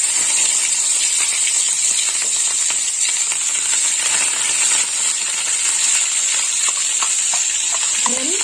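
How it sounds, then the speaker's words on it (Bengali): Ground onion paste sizzling loudly in hot oil in a pan, a dense, steady hiss close by throughout with faint stirring clicks near the end. "আর দিয়ে দেবো বেটে রাখা পেঁয়াজ"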